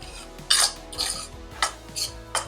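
A spoon scrapes and clinks against a pan while stirring and sautéing a moong dal ladoo mixture, giving four or five light metallic scrapes at an uneven pace, close and moderately quiet.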